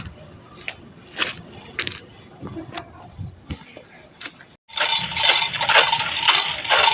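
Metal cooking stove gear clinks and rattles while being packed into a sack, with scattered close taps and jingles followed by a louder, continuous rustling and clattering stretch.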